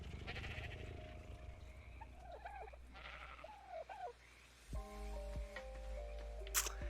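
Sheep bleat repeatedly in the video game ARK, several wavering calls standing out over a steady in-game ambient bed, with a brief tonal chime near the end.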